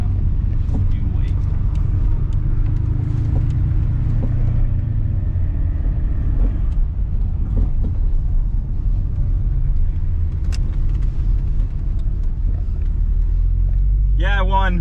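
Cars racing in a roll race, a BMW among them, give a loud, continuous low engine rumble and roar that swells and surges over the whole stretch, with a brief higher engine whine near the end.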